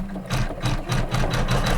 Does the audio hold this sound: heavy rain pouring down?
no